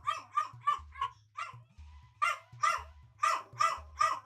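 A small dog barks repeatedly in quick bursts, sharp and close, with short pauses between clusters of yaps.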